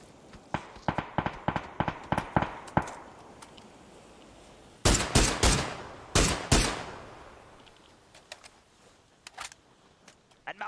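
Rapid bursts of gunfire from a PUBG match: a quick run of single shots, then a few heavy loud blasts with ringing tails, followed by scattered fainter distant shots.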